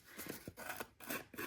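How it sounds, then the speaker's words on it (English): The edge of a pair of scissors scraped along the edge of craft paper to rough it up, giving a few short, close, quiet rasping strokes in a repeated back-and-forth rhythm. "I'm actually going to take my scissors, the edge of my scissors, and just kind of"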